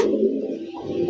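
A domestic pigeon on a Bangladeshi breeding farm gives a steady, full-throated coo, close and fairly loud, a rolling call with a slight dip in the middle before it swells again.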